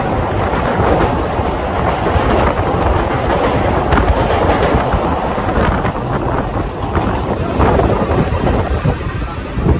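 A Howrah to Digha local train runs at speed, a loud continuous rumble with rattling carriages and wind rushing past, steady throughout without talk.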